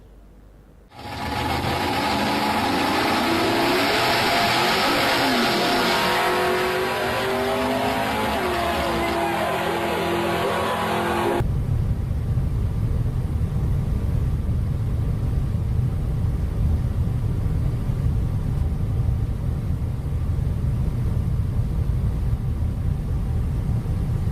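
Old Soviet-made cars that would fail a Dekra technical inspection, with loud continuous engine roar, revving and tire noise filling the whole stretch, the tone shifting abruptly partway through.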